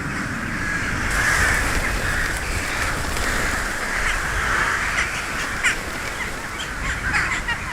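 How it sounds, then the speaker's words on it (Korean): Jackdaws and Daurian jackdaws caw and chatter loudly and continuously while competing for roosting spots in a bamboo grove, a dense overlapping flock calling close by with wind-like background noise. "갈까마귀는 자리 다툼에서 늘 덩치 큰 띠까마귀에 밀린다."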